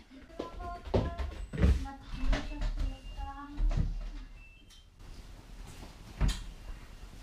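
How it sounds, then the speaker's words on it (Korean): The front door of a home opens late at night, heard as a series of close clunks, knocks and latch clicks spread over several seconds, with brief voices mixed in. "들려오는 현관문 소리"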